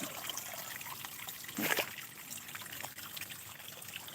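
Faint water trickles and dribbles steadily nearby, with one brief louder splash midway, quiet and without talking.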